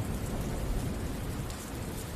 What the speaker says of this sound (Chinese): 但是好像外面在下雨